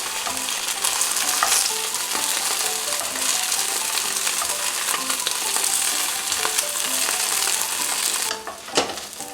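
Tofu pan-frying in oil for agedashi tofu, a dense continuous sizzle with crackling pops and occasional utensil clicks, ending in a sharper knock.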